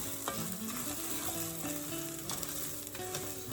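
Rice and onions toast in an oiled pan while a spoon keeps stirring them, giving a constant close sizzle with light scraping and rattling, and no voices.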